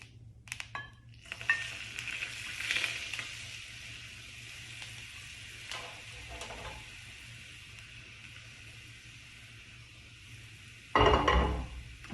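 Soft, steady sizzling and bubbling of hot oil in a frying pan for scallion pancakes, faint and continuous, with a few louder clatters near the start and end.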